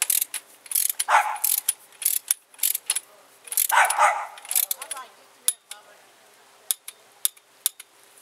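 A ratchet torques spark plugs to 13 foot-pounds, close clicking in short bursts, with a few sharp isolated clicks and quiet gaps between them.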